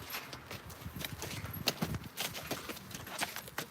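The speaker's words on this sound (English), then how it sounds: "This is my largest horse here on the farm" A large draft horse's hooves clip-clop in a steady walking rhythm on a farm, several hoofbeats close by at moderate volume.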